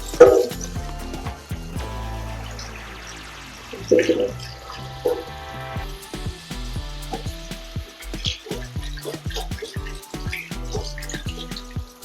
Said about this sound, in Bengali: এবার আমি হালকাভাবে ধুয়ে নিচ্ছি